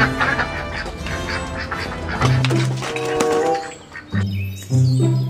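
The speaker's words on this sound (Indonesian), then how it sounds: "Di sini ada hewan bebek." A duck quacks in several short bursts against a busy backdrop of other tones, set among toy farm animals being cleaned.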